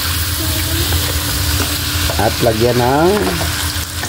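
Chicken and banana frying and being stirred in a pan, with a steady sizzle throughout and scraping stir strokes, while someone talks over the cooking.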